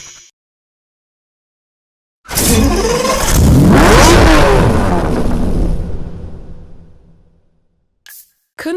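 A Maserati Quattroporte with a 4.7-liter V8 in the Need for Speed Hot Pursuit video game roars past loudly, engine revving and swelling then fading away over several seconds, alone after silence.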